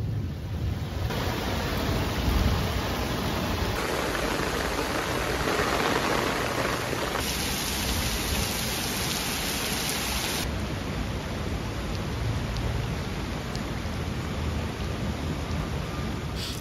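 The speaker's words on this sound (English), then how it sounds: "it rained so heavily that after a few hours, my entire yard was flooded" Heavy rain pours down in a dense, unbroken roar during a storm that flooded a yard around a North Face Wawona 6 tent, a steady wash of noise with no voices.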